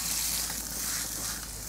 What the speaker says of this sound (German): Bratwürstchen von hier oben runter auf den Grillrost, dass wir sie jetzt also mit Röstaromen versorgen.